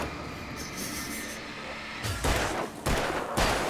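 Gunfire in the video game Alan Wake, a few loud broadband blasts bursting out of steady game noise toward the end, each one abrupt and close, with no talking over them.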